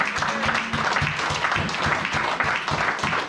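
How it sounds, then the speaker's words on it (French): A church congregation applauds during a pastor's sermon, with steady, dense clapping from many hands holding at a loud level for a few seconds. "acclamons pour le Seigneur."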